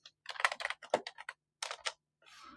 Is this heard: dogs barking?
no